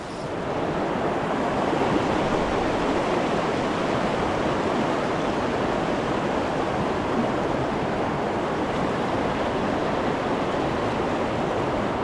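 Small rapids on an Arizona creek, a steady close rushing and churning of water, broadband and unbroken from start to finish.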